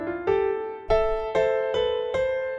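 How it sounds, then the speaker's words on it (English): Grand piano sound from the Arturia Piano V3 plugin, sustained chords struck five times in slow succession, each ringing into the next, clear and upfront with no voices. "It's just a really nice grand piano sound like this."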